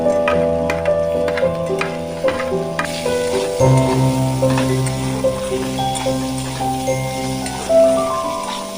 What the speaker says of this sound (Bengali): এইবার খোসাগুলি ভাজা ভাজা হয়ে এলে এতে আমরা একে একে লঙ্কা, রসুন কুচি এবং পেঁয়াজ কুচি দিয়ে দেব